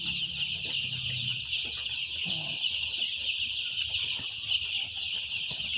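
Chickens, five days old, cluck and murmur in an overheated coop over a constant high-pitched hum that runs throughout.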